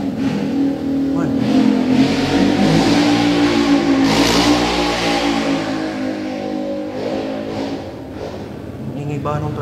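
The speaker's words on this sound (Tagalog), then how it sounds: "Ingay ba nung tricycle na yun?" A tricycle engine revs loudly and steadily close by, rising and holding a rough mid-pitched drone, with people talking over it.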